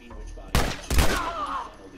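Two loud, close gunshots about half a second apart ring out in The Last of Us Part 1, the second trailing into a brief fading tonal ring.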